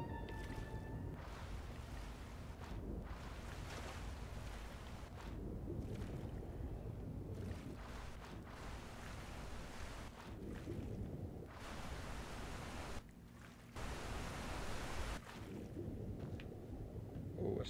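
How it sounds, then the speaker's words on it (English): A waterfall in the video game Skyrim rushes in a continuous broad roar, faint and steady with a few brief dips. "Oh, waterfall."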